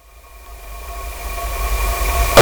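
A Texan T6 Harvard trainer aircraft taxies, its engine making a steady droning hum from inside the cockpit that gradually swells louder and ends in a sudden loud burst.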